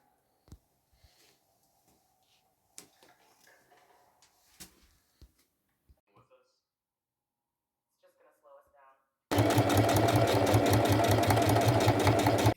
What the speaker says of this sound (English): I'm sewing the last bit of the last sleeve